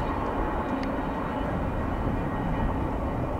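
A CSX freight train rolls past in heavy snow near Buffalo, a continuous broad rumble and roar of wheels and cars at steady loudness without pause.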